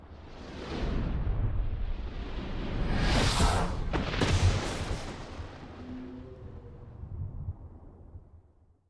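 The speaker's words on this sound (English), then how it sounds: "this giant freaking DVD disc comes out of nowhere and makes a loud-ass bang sound behind the iconic mountain" A DVD logo sound effect where a giant disc appears behind a mountain: a swelling whoosh builds into a deep, loud bang around the middle, followed by a rumbling boom and a low tonal tail that gradually fades.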